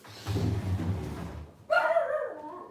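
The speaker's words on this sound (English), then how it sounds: "I don't know what the dog's barking at." A dog close by gives a low gruff bark, then a higher drawn-out yelp, with no talking.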